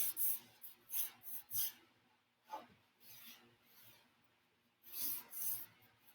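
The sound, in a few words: rubbing coffee paint in with a rag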